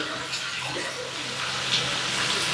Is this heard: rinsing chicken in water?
yes